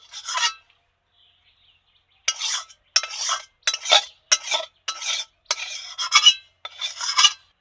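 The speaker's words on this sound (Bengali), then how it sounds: "মাংসটা আমি অল্প অল্প করে কেটে কেটে নামিয়ে নিচ্ছি।" Cooked chicken being scooped out of a pot in a rustic village kitchen, a series of about ten sharp scraping strokes of a utensil against the pot, close and crisp after a brief pause.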